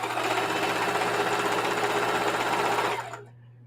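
Sewing machine stitching quilt blocks for a flowered quilt, a fast, even mechanical whir with rapid needle clatter, close and steady for about three seconds before stopping abruptly.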